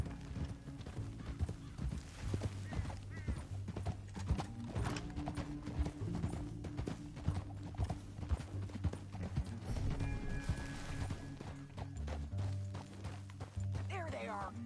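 Horses' hooves clip-clop steadily through the whole stretch, a busy rhythmic clatter with other ambient noise, and people talk over it now and then.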